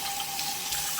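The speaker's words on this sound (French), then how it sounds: "On peut rincer." Tap water runs steadily into a sink to rinse soap, a close, even hiss of flowing water with no talk over it.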